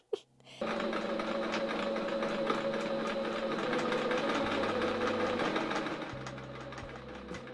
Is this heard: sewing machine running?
yes